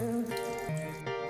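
Water poured onto a tiny plant in a video game, a short, bright gurgling splash lasting just over a second, repeated in quick stepped bursts.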